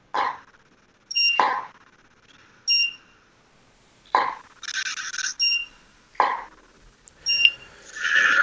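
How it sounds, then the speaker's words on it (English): A photography studio strobe beeps as it recharges between flashes, sharp electronic tones recurring in short bursts with clicks and brief noisy pops, fairly close and loud, no talk. "what are the beeps coming from in the strobe?"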